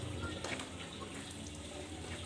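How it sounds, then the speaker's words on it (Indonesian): Tap water trickles steadily into a soap mixture being made as snow-foam shampoo for hand-washing a motorbike, a continuous close wash of running water with no talking. "Ini kalau saya pakainya ini keran, langsung keran."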